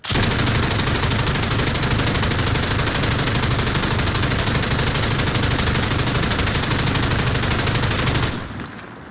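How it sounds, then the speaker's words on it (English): Sustained, dense automatic fire from a PKM machine gun with a 200-round drum in Call of Duty Modern Warfare, one loud unbroken stream of rapid shots for about eight seconds before cutting off. "Now I'm using the PKM with a 200 round drum, about 100 rounds each."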